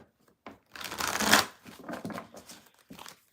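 Tarot cards are shuffled up close in a few quick rustling, flapping bursts. The longest comes early, with shorter riffles and pauses after it, and no voice is heard.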